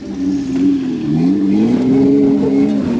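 An off-road vehicle engine revs while rock crawling on a trail alongside Jeeps, Toyotas and a Suzuki, a loud close drone whose pitch rises and dips unevenly, with no talk.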